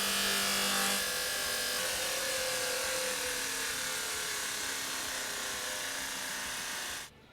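A rope mop buffing wheel polishing stainless steel, giving a loud, continuous whirring rub with shifting tones that carries on steadily and then cuts off abruptly near the end.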